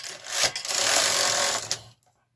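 A KH 230 knitting machine carriage sweeps across a row, giving a loud continuous rasping slide for about two seconds with a couple of sharp clacks along the way, then it stops abruptly.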